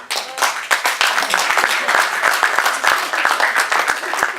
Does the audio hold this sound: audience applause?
yes